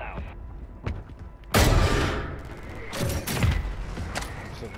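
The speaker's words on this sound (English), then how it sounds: "Mortar strike inbound now" Mortar strike explosions in a multiplayer shooter: a heavy, loud blast with a long rumbling tail, followed by further thuds and crackling impacts nearby.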